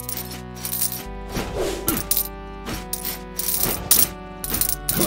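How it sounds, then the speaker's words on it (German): Bright metallic coin-pickup chimes in Rogue Legacy ring out in quick, irregular bursts over a sustained game music tone, loud and close with no talking. "Eine Münze."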